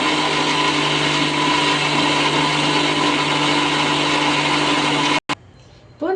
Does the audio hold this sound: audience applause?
no